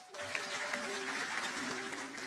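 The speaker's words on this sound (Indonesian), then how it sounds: "Berikan tepuk tangan untuk Tuhan." A church congregation claps together for a moment in worship, a steady wash of applause at moderate level with a sustained tone and voices mixed in underneath.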